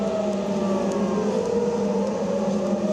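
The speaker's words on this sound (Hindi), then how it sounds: "लेकिन एक बार फिर से इस सायरन को सुनाता हूँ मैं आपको।" An air raid siren in Israel holds a steady, continuous wailing tone, loud and unbroken throughout, with faint background hum beneath it.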